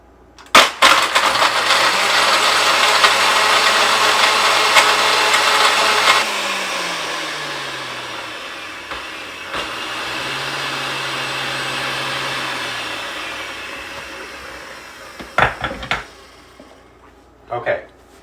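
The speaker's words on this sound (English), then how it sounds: "Most blenders today are rated that they'll chop ice." A kitchen blender grinds ice into a sherbet-like slush, a loud whirring roar that shifts pitch as the cubes break down, followed by quieter motor hum and a few clunks and rattles, with people talking briefly.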